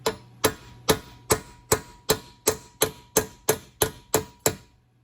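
A hammer taps a bushing out of a metal workpiece in a steady series of about thirteen sharp, evenly spaced knocks, close and loud with nothing else heard.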